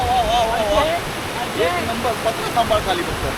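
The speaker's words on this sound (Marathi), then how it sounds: "पुढे आल्यावरती हा आपला छोटासा ओढा ओढासारखाच बोलला मग ओढा भेटलेला आहे" A small stream flows near Palasdari waterfall, with a steady broadband rush of water throughout, while people talk over it.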